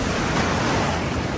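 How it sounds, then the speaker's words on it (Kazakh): Pacific Ocean surf on a cool, sunny day fills the air as a loud, constant roar of breaking waves and wash, close by, with no voices. "Тынық мұхитындамыз"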